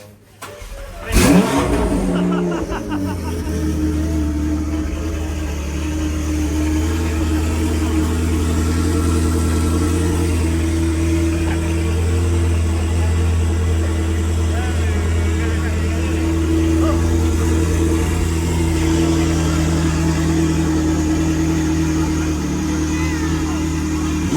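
A car engine cranks and catches with a sharp burst, then settles into a steady, loud, sustained drone with strong low harmonics, the motor held revved for the rest of the stretch while people talk nearby.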